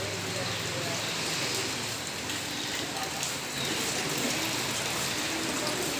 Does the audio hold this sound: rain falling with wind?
yes